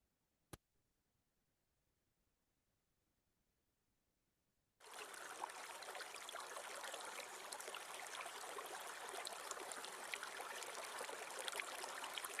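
After a single sharp click and several seconds of near silence, water begins flowing with a steady, even rush that stays constant to the end.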